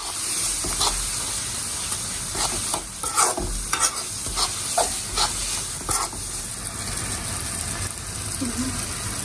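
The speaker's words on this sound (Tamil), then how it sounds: "சோம்பு, கசகசா, குருமிளகு, எல்லாத்தையும் போட்டு நல்லா வதக்கி சிக்கன் எடுத்து போட்டுடலாம்." Fennel, poppy seeds and peppercorns fry in a sizzling masala for chicken gravy, with a continuous hiss broken by repeated scraping stirs close by.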